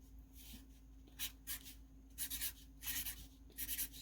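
A marker scratching out a thank-you note on a card, with faint, close strokes coming in short bursts over a quiet background hum.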